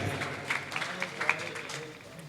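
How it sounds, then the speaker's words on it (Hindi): Scattered audience clapping welcoming a performer at a mushaira poetry gathering, fairly faint and uneven with a few sharper claps standing out before it fades, a voice faintly underneath. "आप पुरजोर तालियों से उनका भी इस्तकबाल करेंगे।"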